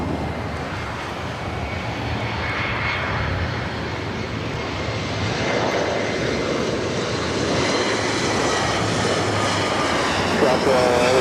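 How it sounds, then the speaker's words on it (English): A Delta Airbus A350 pushes back at LAX, a steady broad engine roar heard from a distance, continuous throughout with voices talking over it. "It's a Delta A350 now pushing back"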